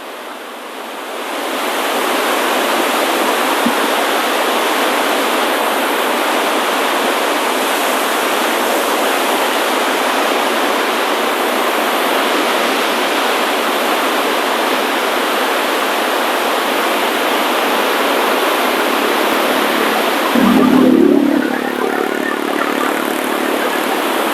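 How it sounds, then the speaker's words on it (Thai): Water roars out through the open gates of the Chao Phraya Dam as a loud, constant broadband rush that holds steady for the whole stretch, with a brief disturbance near the end. "ทางบานประตูนะครับ เปิดให้มันไหล ออกมานะครับ บนหลังเขื่อนนะครับ มวลน้ำน่ากลัวมากนะครับ"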